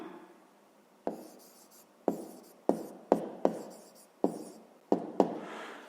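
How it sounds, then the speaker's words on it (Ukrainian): A pen writing on paper during a 5th-grade math lesson, making a series of about nine distinct scratchy strokes and taps at irregular intervals, close and fairly quiet, with no talking. "Записуємо, пишемо маємо."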